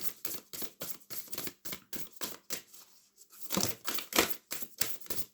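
Tarot cards are shuffled by hand in quick riffling bursts, about a dozen soft crisp flutters in a steady rhythm with a short pause, close and quiet.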